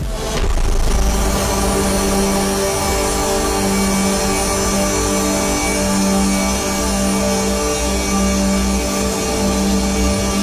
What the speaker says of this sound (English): It eventually reaches a climax where there is an explosion of noise that caps off the album with a bang.